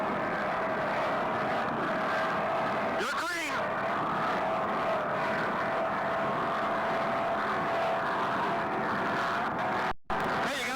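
Formula One class propeller racing airplanes drone steadily overhead, with one passing closely in a quick pitch-shifting sweep, while a commentator talks over the engine noise throughout.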